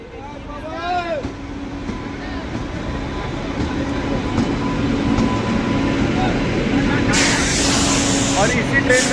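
A train bound for Sultanganj rumbles and clanks with a steady mechanical roar as it pulls into a station. A person talks over it, and a high hiss rises near the end.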